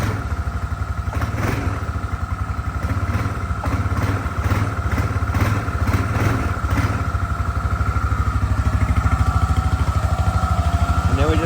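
A four-wheeler ATV engine idles steadily and loudly throughout, with a constant low drone and clattering under intermittent talk.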